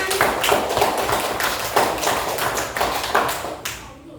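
A class clapping hands together in a lesson, a loud, close burst of rapid, fairly even claps lasting several seconds before stopping abruptly.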